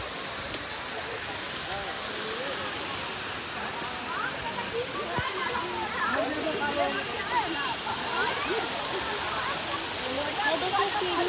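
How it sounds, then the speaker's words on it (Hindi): A large jungle waterfall roars as a steady, broad rushing wash that swells slightly toward the end, with faint voices underneath. "तो चलिए गाइस दिखाते हैं आप लोग को बड़ा का झरना"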